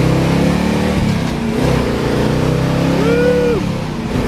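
Big-block V8 of a 1971 Chevrolet SS 454 revving and pulling hard, a loud steady engine roar that climbs in pitch near the end, with no talk over it.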